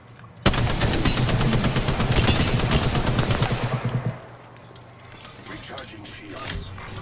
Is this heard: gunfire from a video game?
yes